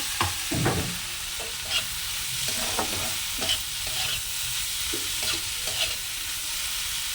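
Radish fries in a pan, a continuous moderate sizzle broken by repeated clinking stir strokes, the first few strongest, then spaced out over the rest of the stretch.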